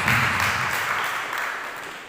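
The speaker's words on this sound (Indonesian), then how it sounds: "Kita beri tepuk tangan bagi Tuhan." Church congregation applauding during a service, a dense, steady wash of clapping from many hands that fades slightly toward the end, fairly close and without talk over it.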